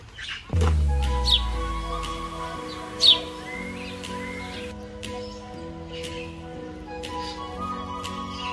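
Birds calling at the Ipswich Nature Centre in Queensland, with a few sharp, brief chirps standing out over a steady low hum and a sustained tonal drone, moderately close and without talk.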